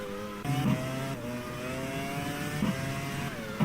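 Race cars in an F1 racing video game braking heavily around a banked stadium section, a steady engine whine that drops in pitch as the cars slow, with a second car's engine layered underneath.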